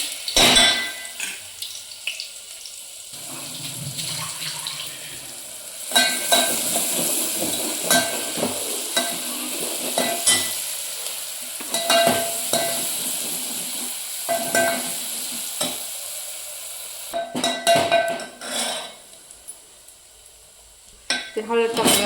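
Masala spices fry in hot oil for a crab curry, with steady sizzling under intermittent clinks and scrapes of a spoon or ladle against the pot, close and moderately loud.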